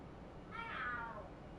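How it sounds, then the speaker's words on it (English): Cats fighting and meowing in the video game Lost Judgment, a brief faint wavering yowl that rises and falls in the background. "The hell, are there cats fighting?"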